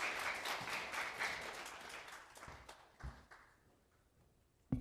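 A church congregation applauds warmly to welcome the kindergarten team leader, a burst of many hands that thins out and fades after about three seconds, leaving a few scattered claps and soft noises.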